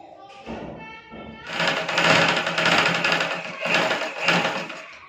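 Electric sewing machine stitching a baby frock, with fast, rattling bursts of needle stitching that start and stop several times, close and fairly loud, after someone speaks briefly at the start.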